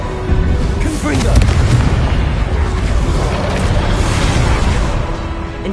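Confringo blasting spell explosion in a PS4 game, a loud sustained booming burst with rumbling debris filling the mix, while game voices carry on underneath.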